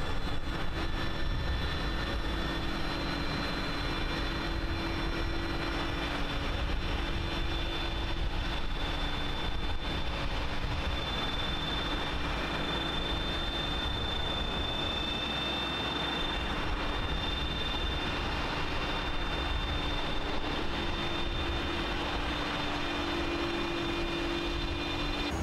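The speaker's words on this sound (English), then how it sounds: "Always love listening to these engines start." Airbus A300 jet engines spooling up in a flight simulator, a steady loud broadband roar with a constant whine and low hum running unbroken throughout.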